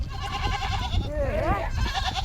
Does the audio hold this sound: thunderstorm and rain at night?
no